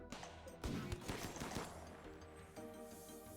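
Charged spaceship weaponry firing in the space colony game Rimworld, a burst of several heavy rapid shots packed into the first second and a half, loud and close, then easing into a steadier rumble under a musical bed.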